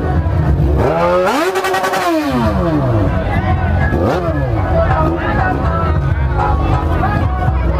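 Yamaha XJ6 motorcycle riding through busy traffic, engine droning loudly with rising and falling revs, mixed with passing vehicles and crowd babble.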